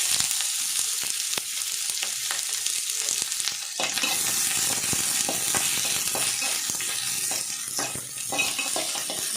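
Onions, green chillies, garlic and ginger fry in a pan for an Andhra-style spicy chicken curry, a steady loud sizzle with scraping stirs and spatula clicks throughout, no talking.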